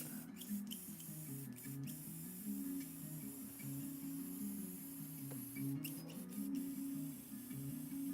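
An airbrush sprays paint in short bursts, a faint close hiss that comes and goes over a steady hum of a nearby compressor, with no talking.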